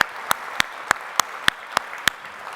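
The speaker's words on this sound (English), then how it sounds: "Yes, that deserves an applause." Applause at a hospice fundraising event, a soft wash of crowd clapping with several sharp, evenly spaced loud claps standing out in a regular beat.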